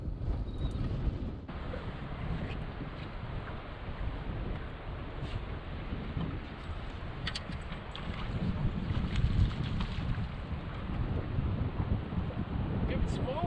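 Steady wind noise buffets the microphone outdoors on the water while casting a baitcaster reel, a continuous broadband rush that swells louder toward the end.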